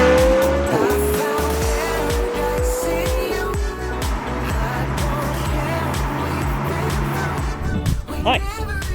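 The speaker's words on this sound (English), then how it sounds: "today I'm testing for you the brand new McLaren 675LT Spider" A McLaren 675LT Spider sports car drives hard. The engine roars loudly and climbs through rising revs and shifts, with a brief tyre squeal and crackles near the end, all close and continuous.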